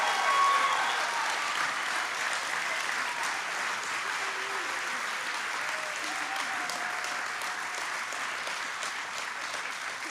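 A graduating class at an Eastside Academy graduation ceremony gets sustained applause from a large audience, dense clapping that fills the room and slowly tapers, with a few scattered voices underneath.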